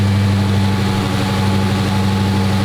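A cold V6 engine in a Dodge Charger rental car runs at high revs, a loud, steady low drone with strong humming tones throughout, no voices.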